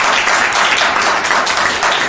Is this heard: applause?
yes